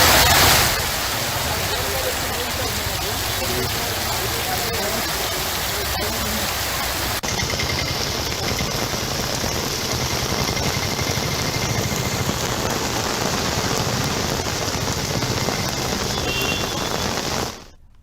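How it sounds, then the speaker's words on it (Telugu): Heavy rain pours steadily in Hyderabad, a dense, loud, even hiss throughout, with faint traffic and engine sounds mixed beneath it. "పలు చోట్ల భారీ వర్షం కురుస్తోంది."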